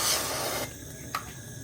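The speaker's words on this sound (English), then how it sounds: "Just going to use some of the ESN oil spray" ESN cooking oil spray is sprayed into a pan in a short, close hissing burst that stops abruptly, followed by a faint click and a quiet kitchen.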